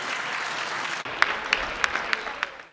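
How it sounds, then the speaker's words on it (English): Audience applause at a conference panel session, a dense, even wash of clapping that briefly dips and then continues with a few sharp, distinct claps standing out near the front. "let's give a round of applause for Derek and John"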